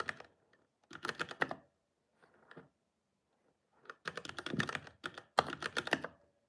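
Computer keyboard typing a command while setting up a Voron Trident 3D printer: short bursts of quick, close key clatter separated by silent pauses, the last bursts louder and denser, with no talking.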